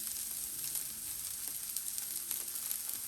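Ground meat browns in a pan with a bright, steady sizzle and crackle, close and continuous with small pops, and no voices over it.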